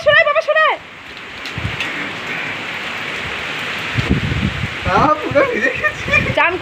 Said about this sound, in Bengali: পুরো ধোয়া, মনে হচ্ছে ধোয়া, এত বৃষ্টি হচ্ছে। এই আবার বাজ পড়ছে